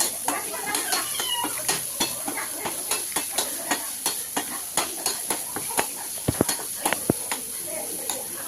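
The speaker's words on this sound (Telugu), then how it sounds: "అదే పాన్లోకి మరొక 2 చెంచాల ఆయిల్ వేసుకుని సన్నగా తరిగిన 1 కప్పు ఉల్లిపాయ ముక్కలను వేసి దోరగా వేయించుకోవాలి" A cup of finely chopped onions fries in a couple of spoonfuls of oil in a pan, giving a steady hiss under repeated rhythmic clinks of a spoon stirring against the pan.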